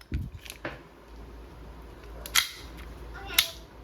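An EMG Pit Viper gas blowback airsoft pistol in all-black finish fires two sharp, close snapping shots about a second apart, with a metallic clack after each and some lighter clicks before them.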